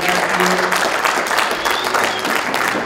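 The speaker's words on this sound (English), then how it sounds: "Give yourselves a round of applause." Loud, dense applause from a crowd at a closing plenary session, continuous throughout, with a faint voice mixed in.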